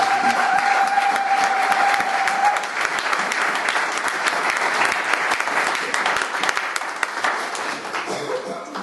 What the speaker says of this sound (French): Sur ces acclamons très fortement Jésus-Christ pour cet amour qu'il a fait